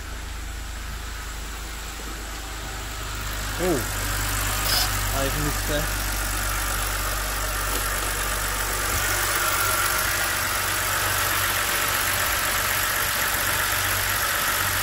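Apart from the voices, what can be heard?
BMW E92 325i engine idling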